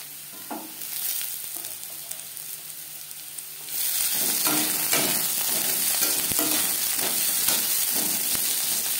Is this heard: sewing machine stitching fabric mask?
no